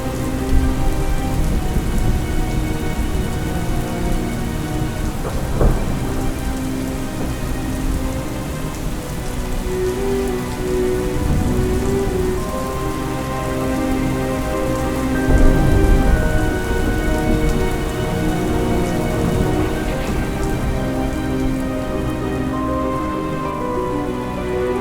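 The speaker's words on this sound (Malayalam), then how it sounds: "പെട്ടെന്നൊരു മഴ" Heavy rain pours steadily on a surface through a roadside waiting shed, with low thunder rumbling now and then beneath the downpour, continuous and fairly loud throughout with no talking.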